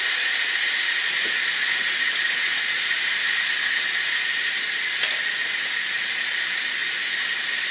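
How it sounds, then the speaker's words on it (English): Steam released from an Instant Pot pressure cooker after cooking lasagna, a loud, steady, high hiss that holds constant throughout with no pauses or voices. "It says to release the steam right away, so that's what we're gonna do."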